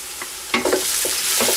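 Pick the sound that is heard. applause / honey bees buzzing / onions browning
onions browning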